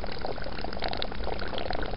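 Water pours steadily from an aquaponics overflow return pipe, a continuous splashing rush with a bright, even texture and no pauses, close and fairly loud.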